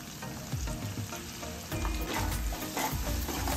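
Onion fries in a pan while turmeric is stirred in, giving a continuous close sizzle with repeated scraping and stirring knocks of the spoon against the pan.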